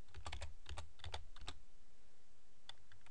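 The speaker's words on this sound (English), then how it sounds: "so we type a hash key" Keys tapped on a computer keyboard while editing a theme site, a quick cluster of crisp clicks followed by a few more after a pause, faint and close with no talking.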